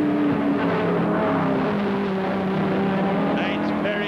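Saloon race cars, including a Chevrolet Camaro, lap the tight Crystal Palace circuit during a 1971 British Saloon Car Championship race, a steady loud engine roar under continuous commentary.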